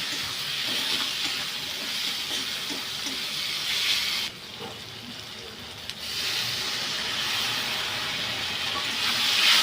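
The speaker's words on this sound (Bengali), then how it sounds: "পরিমাণ মতো নুন দিয়ে ভালো করে কষে নেব" Steady loud hiss of masala and salt being stir-fried in a hot pan, close and continuous, briefly dropping quieter before resuming.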